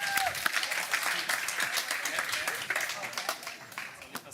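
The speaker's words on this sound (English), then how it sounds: "So Tobias, a big applause for what you're doing here." A conference audience claps in sustained, dense applause on the main stage of an AI summit in Hamburg, a steady wash of many hands lasting several seconds with a few louder claps near the end.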